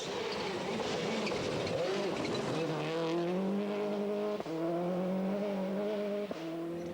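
Subaru rally car on gravel during a testing session, an engine note climbing through rising revs with a couple of abrupt cuts at gear changes, loud and close, with faint crackle from the loose surface beneath.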